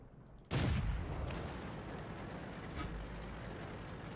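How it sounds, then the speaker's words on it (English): A Panzer IV tank round striking the player's tank in the World of Tanks video game, a sudden heavy boom followed by a sustained rumbling roar, close and loud, with a softer thud near the end. "Panzer IV hit me."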